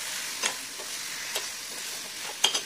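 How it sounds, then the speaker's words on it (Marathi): Prepared masala goes into brinjal frying in a pan, giving a steady close sizzle broken by a few sharp scrapes and knocks of stirring. No one speaks. "आता हा तयार झालेला मसाला त्यामध्ये ॲड करूया."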